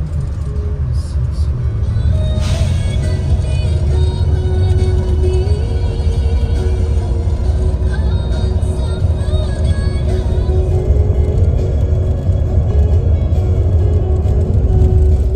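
Steady loud engine drone and road rumble inside a new Sembodo long-distance bus cruising on the toll road from Bakauheni in Sumatra, continuous throughout with no voices.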